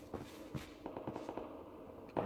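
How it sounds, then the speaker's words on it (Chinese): Gunshots from a battle royale video game come as a rapid series of sharp, fairly faint cracks and pops, heard at a distance as scattered bursts, with a louder shot at the end. "这是枪声"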